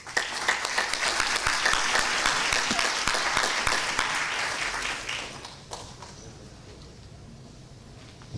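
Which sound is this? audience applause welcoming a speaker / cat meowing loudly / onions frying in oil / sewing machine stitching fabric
audience applause welcoming a speaker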